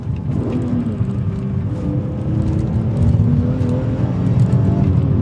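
An E46 BMW M3 CS sports car engine runs loud and close, a deep throaty drone that swells slightly as it revs, with no talking.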